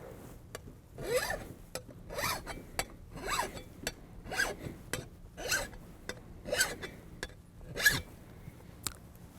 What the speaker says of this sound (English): you notice when I'm filing, I'm going towards the blade